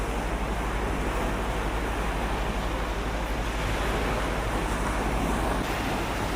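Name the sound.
sea waves on San Stefanos beach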